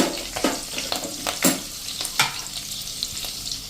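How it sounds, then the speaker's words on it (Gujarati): Five or six curry leaves dropped into hot oil for a sorghum pulav, crackling in sharp, spitting bursts over a soft background sizzle, close and irregular. "અને હવે એમાં આપણે એક લીમડાના 5 થી 6 પત્તા નાખી દેશું."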